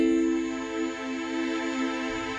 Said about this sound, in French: on entend les synthés derrière